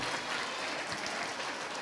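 Audience clapping for a children's Dombari folk dance at a cultural programme in Shantiniketan, a steady dense burst of applause from a crowd, fairly close and continuous with no voices.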